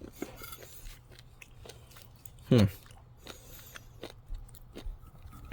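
Chewing of a hard white chunk of Australian greenlip abalone, with one short, loud crunchy bite in the middle and quieter chewing around it, close to the mic.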